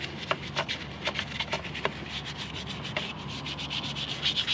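Close, steady brushing and rubbing as a car's wheel arch and painted hub are scrubbed clean, with brisk repeated strokes and sharper scratchy hits in a continuous rhythm, no talking.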